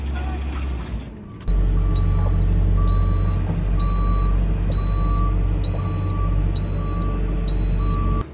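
Load-all telehandler engine revved up to a loud steady roar while a reversing beeper sounds at a regular rhythm above it; a voice is heard briefly.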